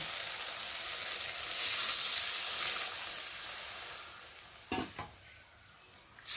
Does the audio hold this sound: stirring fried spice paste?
yes